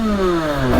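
A 70cc 2Fast scooter's two-stroke engine revs loudly and close by, its pitch sliding down then climbing again in a continuous buzzing drone with no one speaking.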